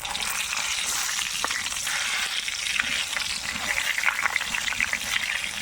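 Eggplant sizzling as it fries in a pan for a spiced masala eggplant and chhatu curry, a steady broad hiss holding throughout with small crackles and pops rising toward the end.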